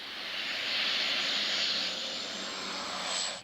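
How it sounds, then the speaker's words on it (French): Canadair firefighting water bomber aircraft flying past, a broad engine roar that swells, holds steady and then fades with a slight rising whine, no voices over it. "le Canadair est le seul avion au monde construit spécialement pour lutter contre les incendies"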